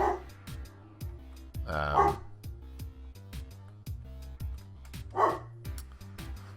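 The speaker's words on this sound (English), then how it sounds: "Oh, dogs." Several dogs bark in loud, close bursts, with a few yips between them, over rhythmic background music and sound effects from a Minecraft game.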